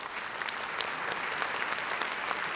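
Audience applause for a People's Artist and honorary citizen of Yerevan at the 2016 Tsitsernak awards ceremony, a steady dense wash of many hands clapping throughout, loud and continuous with no voices over it.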